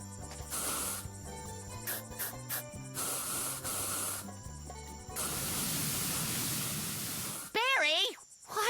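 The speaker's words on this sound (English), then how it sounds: "watch where you're spraying!" A cartoon character sprays weed-killer solution in a garden, giving a loud, sustained hissing spray over several seconds. Bursts of music and cartoon sound effects come before it, and a warbling effect follows.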